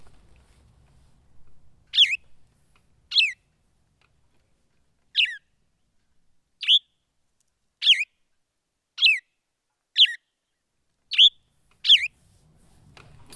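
Song of the Graveyario bird, heard as a series of short, clear, descending chirped phrases repeated about every second or so, crisp and close against near silence.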